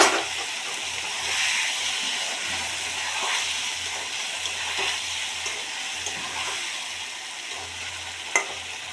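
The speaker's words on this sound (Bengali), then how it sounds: "তেল গরম হয়ে গেছে। ওই যে আমি আমার মাছটি ছাড়িয়ে দিয়ে" Hilsa fish frying in hot oil, a steady broadband sizzle with soft crackles and a few sharp pops, close and continuous with no talk.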